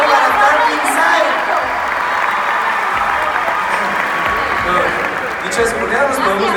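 Loud, sustained applause from a large church event audience at Casa de Dios in Guatemala, steady dense clapping with light cheering woven through, continuing without a break for several seconds.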